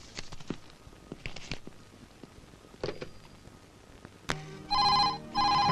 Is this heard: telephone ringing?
yes